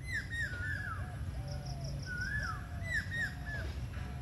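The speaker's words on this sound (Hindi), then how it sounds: "ये देखिए पक्षियों की कुहू को सुनिए।" Several birds calling outdoors in India, including mynas and parrots, with repeated harsh cawing and squawking calls and a higher piping series, moderately close over a low background rumble.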